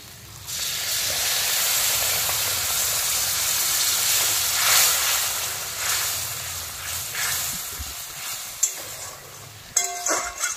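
Water splashed into frying eggplant masala sets off a loud, steady hissing sizzle that lasts about eight seconds, then subsides into quieter bubbling and a few sharp utensil clinks near the end.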